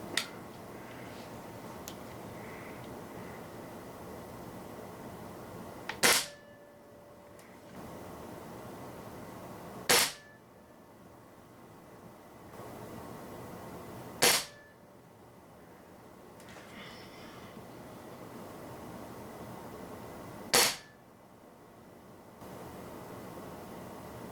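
An Umarex Fuel .22 caliber gas-spring air rifle fires Barracuda Hunter Extreme 19.09 grain pellets: four sharp, loud cracks spaced several seconds apart, with quiet room tone between shots.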